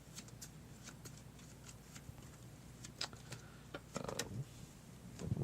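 Playing cards for the tabletop game Runic Revised are shuffled by hand, a soft run of quick riffling snaps and clicks close up, growing busier near the end.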